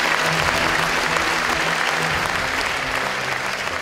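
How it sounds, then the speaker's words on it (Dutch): Party members at a Party for the Animals anniversary celebration applaud warmly for Marianne Thieme, a dense, even roar of clapping that holds steady and loud throughout. "graag uw warme applaus voor niemand anders dan Marianne Thieme"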